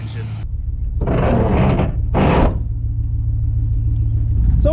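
A 1979 Chrysler 300 engine idling smoothly with a steady low rumble close by, while someone speaks over it in short bursts.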